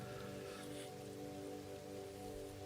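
Steady rain patters across surfaces in the video game Satisfactory, a soft, even hiss of falling drops heard alone at low volume under a faint humming tone.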